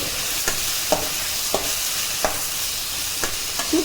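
Vegetables sautéing in a pan with turmeric for a hotel-style sambar, a steady sizzle with a spoon scraping and stirring roughly every half second, close and fairly loud with no voices.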